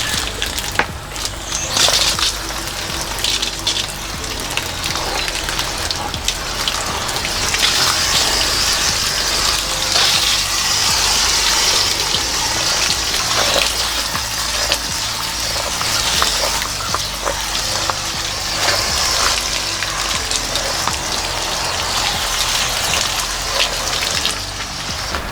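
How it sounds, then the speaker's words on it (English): A garden hose waters plants and freshly sown seeds in a home food garden, giving a steady, loud, broad gush of spraying water that runs without a break from start to finish, with no talk. "Let me grab my hose and water everything."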